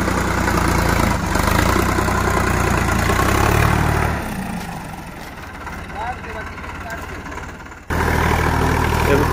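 Sonalika DI 745 tractor engine pulling a plough in a field: a loud, continuous diesel drone that eases off about halfway through, then surges back near the end.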